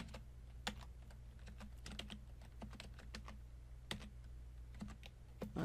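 Typing a disk-listing command on a computer keyboard: a string of quick, light key clicks at an uneven pace with a couple of brief pauses, quiet and close over a low steady room hum, no speech.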